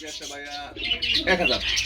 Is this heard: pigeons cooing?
yes